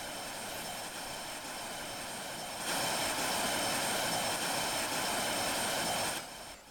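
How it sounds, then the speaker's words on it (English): An airplane's engine drones steadily in the Roblox video game, a constant jet-like roar that swells louder partway through and then drops back, with no voices. "before I crash the plane, let's test if I can actually land it"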